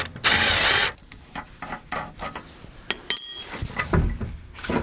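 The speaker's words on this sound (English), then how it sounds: "if you pull this lever and twist it, the pin moves back in, and this is supposed to latch in" A Land Rover lever is pulled and twisted to release its latch pin, producing sharp metallic clicks and clinks mixed with bursts of rattling and a scraping rush, close and fairly loud, with no talk.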